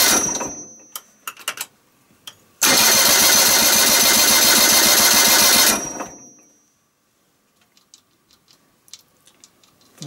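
Engine revving hard for about three seconds while a tyre is seated on a wheel, a loud, dense burst with rapid pulsing, framed by scattered clicks and quiet before and after.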